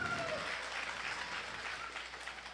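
Audience applause at a Tamil mimicry show during an autumn festival stage event, a soft, steady spread of many hands clapping, fairly distant and continuous.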